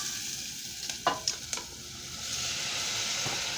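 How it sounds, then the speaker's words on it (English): Drained canned Italian green beans going into a pot of frying bacon: a few quick splashing thumps as they land, then a broad, steady sizzle and the rustle of stirring. "And then I'm going to add my 2 cans of Italian green beans."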